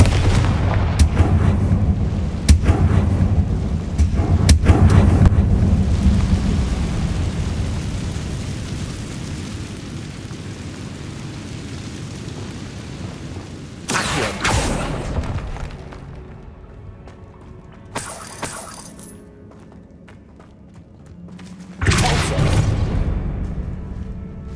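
Confringo blasting spell explosions in the video game Hogwarts Legacy: a heavy rumbling blast that slowly fades, followed by several sharp, loud bursts with booming low ends.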